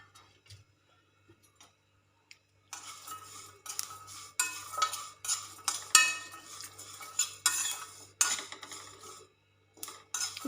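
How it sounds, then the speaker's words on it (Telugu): Sesame seeds, garlic and cumin are stirred in a pan, beginning with a few faint taps, then turning into repeated close scraping and clinking of a spoon against metal in an uneven rhythm, with no talk. "ఇప్పుడు ఇందులోకి నువ్వులు, ఎల్లుల్లిపాయలు, జీలకర్ర 3 వేసి ఫ్రై చేసుకుందాం."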